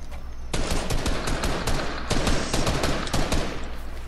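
Rapid bursts of automatic gunfire from a Fortnite Battle Royale match ring out loud and close, crackling shots repeating in quick clusters for several seconds with no talk.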